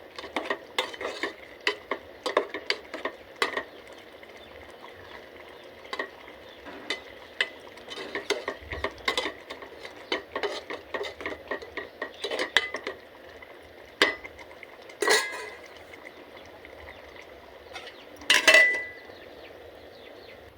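A spoon scrapes and clinks repeatedly against a metal pot while salt and chili are stirred into cooked cucumber dal, with irregular close taps and one louder clang near the end, no talking.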